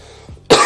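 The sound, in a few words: cough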